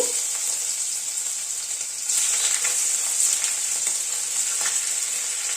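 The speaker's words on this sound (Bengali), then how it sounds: "পনিরটা আগে হালকা করে ভেজে নেব।" Cubes of paneer (250 g in total) frying in hot white oil: a steady, close hiss and crackle that grows louder partway through and then stays even, with no talking.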